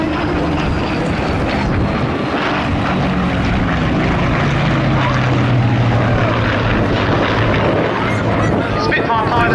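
Supermarine Spitfire aircraft engine at the Cosford Air Show 2017, a loud continuous propeller drone with a slowly shifting pitch, holding steady throughout while background speech murmurs faintly beneath it.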